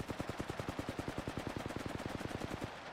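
Rapid sustained automatic fire from a Flatline assault rifle in Apex Legends, roughly two dozen evenly spaced, punchy shots in a fast steady rhythm, loud and close with no talk over it.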